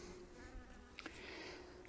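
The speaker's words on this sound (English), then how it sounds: "But just the sound of these honeybees is fantastic." Honeybees buzz faintly around garden plants, a soft continuous drone with occasional nearer passes in an otherwise quiet outdoor setting.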